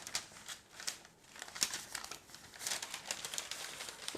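Parchment paper crinkles and rustles as it is handled while baking Mexican conchas, a close, quiet string of irregular crackling bursts with no talking.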